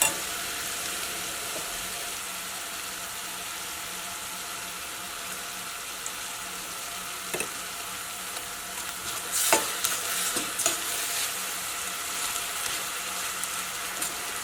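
Ghee and grated coconut sizzle softly in a pan, with a constant gentle frying hiss and occasional scraping stirs that grow a little busier toward the end.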